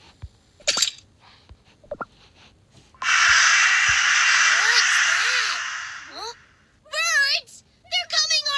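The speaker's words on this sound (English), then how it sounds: "Birds! They're coming our way!" Birds cawing in the Cookie Run Kingdom video game, a long loud harsh burst followed by shorter sharp caws, with clicks and brief voice-like sounds around them.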